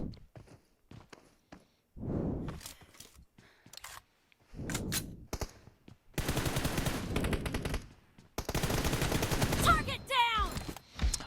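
Gunfire in the video game PUBG: bursts of rapid automatic shots and sustained fire, loud and close, broken by quieter gaps with footsteps and a voice talking in places.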